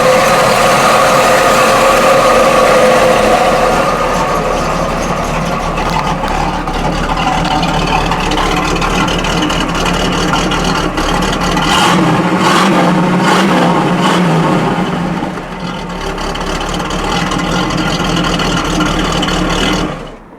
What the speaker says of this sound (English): That 455 just sounds awesome. Nice dual exhaust sound.